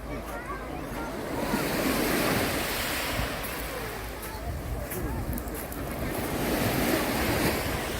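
Steady roar of surf breaking on a beach, broad and continuous, with wind noise buffeting the microphone and faint voices in the background.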